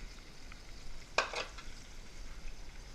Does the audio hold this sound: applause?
no